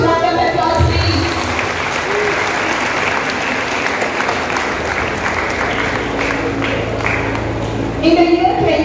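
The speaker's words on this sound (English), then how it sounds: "Huge round of applause, please." Audience applause at a school felicitation ceremony after a top art-stream student is called to the stage, a steady, dense clapping that holds for several seconds with faint voices and murmurs underneath.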